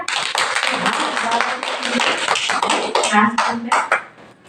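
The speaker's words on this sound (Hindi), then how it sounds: "हाथ खड़ा करो, ताली बजा" Hand clapping from an audience at a Hindi spiritual discourse, a brisk clatter of many claps with voices mixed in, thinning out near the end.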